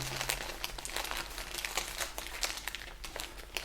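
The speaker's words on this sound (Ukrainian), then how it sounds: "Після того, як я наповнив пакет, потрібно його стягнути" A soil-filled plastic bag is squeezed and pulled tight around an air layer on a ficus benjamina, producing close, continuous crinkling and crackling with rapid irregular bursts.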